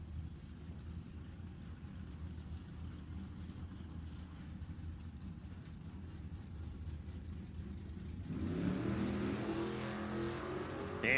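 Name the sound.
nostalgia gasser drag racing cars (Vega, Mustang) racing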